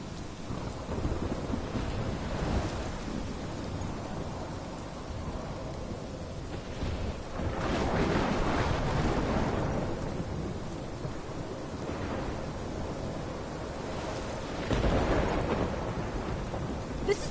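A thunderstorm rages in the video game Life is Strange: steady heavy rain pours throughout while several deep, rolling thunder rumbles swell and fade at intervals, loud and close, with no talk.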